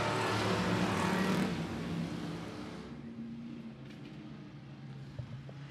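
A pack of Thunder Stock race cars roaring off at the green flag at I-76 Speedway, a loud, dense engine wash that swells then recedes as the field pulls away into the distance.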